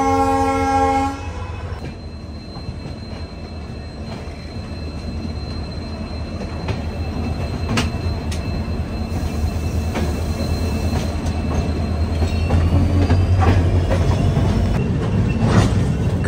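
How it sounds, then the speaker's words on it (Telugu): Passenger trains on parallel tracks on the Mumbai to Howrah Mail route near Kharagpur, a loud continuous rolling rumble with rail clatter and faint squeals, a horn sounding at the start. "ఇలా ప్యారలల్ రన్లు అయితే భలే ఉంటాయి ఇలా ట్రైన్లు తెలుసా?"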